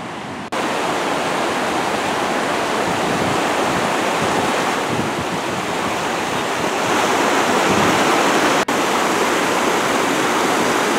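Steady roar of a waterfall on a river at Vassaga, Norway, with a suspension bridge crossing nearby; loud, continuous broadband rush of falling water heard close up with no talking.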